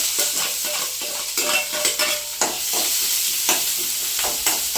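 Continuous crackling sizzle of mustard seeds, curry leaves, onions, garlic and chillies frying in oil, with repeated stirring scrapes and pops, close up and without talk.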